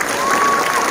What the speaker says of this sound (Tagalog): Sa lahat ng tumulong, palakpakan natin sila.